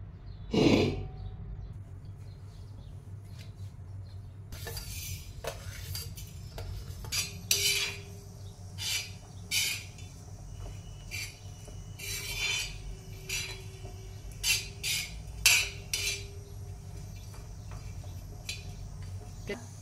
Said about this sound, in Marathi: हा जो कच्ची दाबेलीसाठी मसाला लागणार आहे तो मसाला भाजून घेऊया